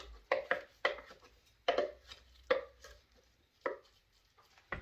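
A food processor pulses broccoli in short, sharp bursts, roughly eight quick separate chops spaced unevenly with brief silences between, close and fairly loud.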